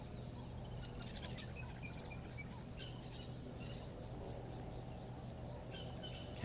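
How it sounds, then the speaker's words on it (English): Cicadas calling on a morning in nature, a faint, continuous high buzzing drone that pulses slightly, with occasional soft bird chirps over a quiet steady background. "Can also hear the cicadas starting to warm up for the day as well."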